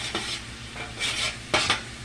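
Garlic and vegetables stirred around in a skillet: three or four short scraping, rustling strokes over a low background sizzle, close and clear.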